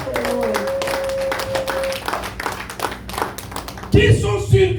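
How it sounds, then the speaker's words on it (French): A church congregation claps hands together in a dense, continuous rhythm, close and lively, with a voice speaking and calling out over the clapping throughout. "Let's clap for the Lord."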